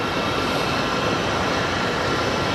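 An airplane landing at Sky Harbor International Airport gives a loud, steady jet roar with a broad rushing noise and no break.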